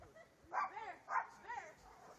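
A dog barks outdoors during a snowy blizzard, two or three fairly loud barks with whimpering tones, spaced about half a second apart over quiet background.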